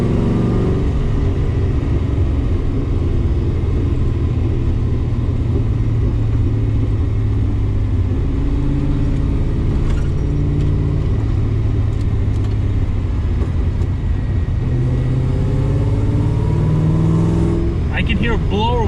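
A car engine idles after a cold start through an aftermarket muffler, a loud steady low rumble that holds throughout, with a voice speaking over it.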